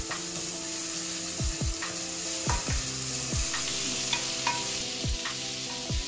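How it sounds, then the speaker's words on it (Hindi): Onion and tomato frying in a pan for lauki and chana dal sabji, a steady close sizzle with repeated scraping stirs of a spatula against the pan, no talking. "ये फ्राई हो चुका है प्याज टमाटर"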